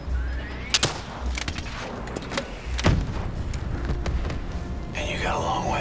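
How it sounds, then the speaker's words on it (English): Gunfire and explosive blasts in Call of Duty: Black Ops III come as several sharp, loud bangs spread across the stretch, with a voice speaking amid the action. "This is not a minigun, this is a rocket launcher."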